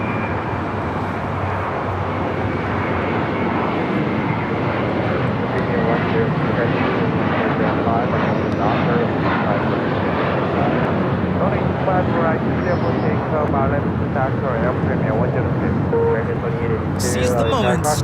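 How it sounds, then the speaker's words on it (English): A JetBlue Airways Airbus A321 jet takes off from LAX, a loud, sustained engine roar that holds steady throughout, with people talking over it. "Taking off to JFK, that A321 JetBlue Airways 424"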